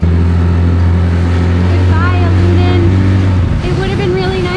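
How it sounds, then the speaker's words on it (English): Boat motor running steadily and loudly throughout a boat ride to Perhentian Island, a constant drone with voices talking over it near the end. "we're back on another boat"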